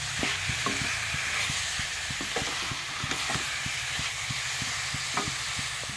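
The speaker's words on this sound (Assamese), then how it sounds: "খুব ভাজি মেলি চেনিটো শুকুৱাই ল'ব লাগিব।" Coconut and sugar fried in ghee for a sweet, with a steady sizzle under repeated rhythmic scraping and knocking of a spoon against the pan, close and even, no speech.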